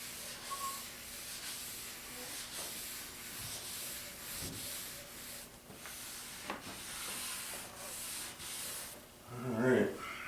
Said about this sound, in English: I'm going to wax the whole top and hand buff it out